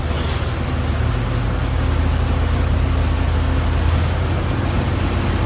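Twin engines of a Fairline Targa 45 Open yacht run steadily, a dense low drone with constant rushing water and wind noise, loud and unbroken throughout, with no talking.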